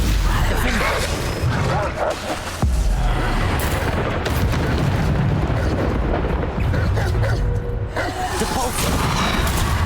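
Booming spell explosions from Bombarda and other combat magic in Hogwarts Legacy rumble loud and continuous, with repeated deep blasts throughout while a voice talks over them.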